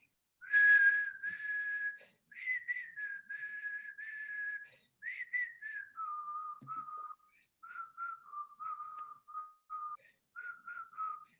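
A single person whistles a simple, repetitive tune, alone and clear, in short phrases that step down in pitch and then repeat with brief pauses between them.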